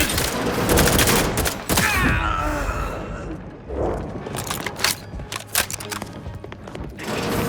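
Gunfire from a battle in the video game The Outer Worlds 2, a dense, loud fusillade of rapid shots that fills the first half, then scattered sharp bursts and impacts that continue intermittently to the end.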